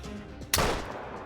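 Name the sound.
rifle shot at a bison in theHunter Call of the Wild video game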